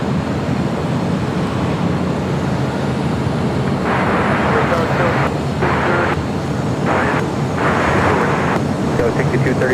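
An Airbus A350-900 airliner roars steadily at close range on landing at LAX, a dense broadband rumble of jet engine noise that holds throughout with no voices.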